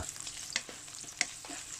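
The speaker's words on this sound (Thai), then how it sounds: "ทีนี้ก็ผัดส่วนผสมนี้หอมขึ้นมา" Ginger, shallots, spring onion and coriander stir-frying in hot oil for a Chinese-style boiled chicken dish: a soft, steady sizzle broken by a few sharp scrapes and clicks of the utensil against the pan.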